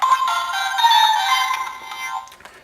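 A ToQger Applichanger toy cell phone plays its electronic ringtone, a loud, bright, steady melody that runs close up for about two seconds and then cuts off.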